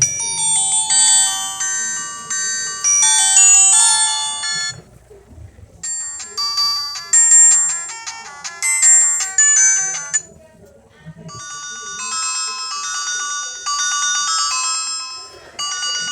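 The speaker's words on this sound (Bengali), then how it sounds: "আর ফোনটির সর্বশেষ আমি একটু রিংটোনটা শোনাবো, কারণ রিংটোনটা কিন্তু একটা ফোনের মেইন।" A bright electronic ringtone melody plays in three loud bursts with short pauses between, tinny and synthetic, from a GDL G403 keypad mobile phone.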